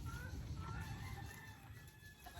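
Chickens cluck faintly in the background of an outdoor scene, with a soft rustling ambience and no clear talk.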